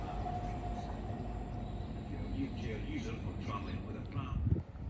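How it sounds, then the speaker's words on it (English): A ScotRail passenger train from Dundee to Edinburgh Waverley passing through North Queensferry: a continuous low rumble and rolling wheel noise, moderately distant, swelling slightly toward the end. "Passing through now is a ScotRail service from Dundee to Edinburgh Waverley."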